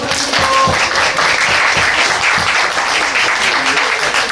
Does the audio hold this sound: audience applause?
yes